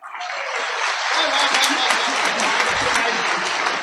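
Audience applause at a Hindi comic poetry recital on stage, a steady dense wash of clapping that holds loud and even for several seconds with no speech.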